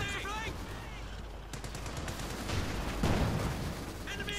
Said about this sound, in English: Up west here we got an MG-34 versus MG-34.